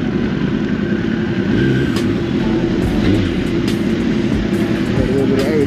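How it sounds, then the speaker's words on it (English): Motorcycles at a bike night on a Brooklyn street, including a 2021 Kawasaki ZX-10R, a Ducati Superleggera and a BMW, rumbling and droning loudly and steadily with engine noise throughout, with some voices under it. "Millions of bikes out here."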